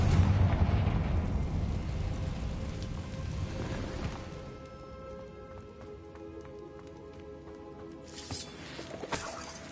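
Confringo blasting spell in Hogwarts Legacy: a loud rumbling explosion at the start decays over several seconds, followed later by a few smaller sharp impacts.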